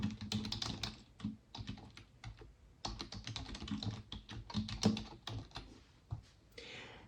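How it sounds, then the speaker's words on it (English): Typing an activity name on a computer keyboard, a close, quiet, steady stream of rapid key clicks with a brief pause midway. "And then I'm going to type my activity name."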